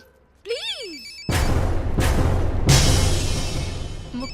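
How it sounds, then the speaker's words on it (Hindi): A telephone rings loudly indoors in a film scene, its harsh ring arriving in three long, closely spaced bursts after a brief swooping tone. "मुक्ति कपूर का फोन"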